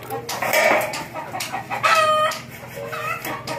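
A rooster crows loudly nearby, a long rising and falling call, among other clucking fowl and farmyard background noise.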